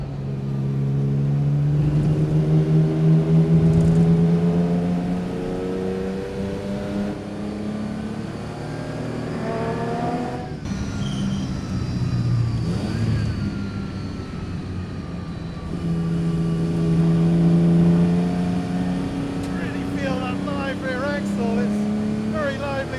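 A 1954 Aston Martin DB2/4 engine works hard on a track, its loud, close exhaust note climbing and falling as the throttle is held and released through corners, steady and continuous for over twenty seconds.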